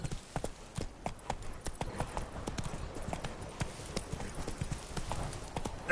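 Horse hooves clip-clop at a steady walking rhythm in the Witcher 3 video game, close and distinct, with faint ambient sound around them and no talking over them.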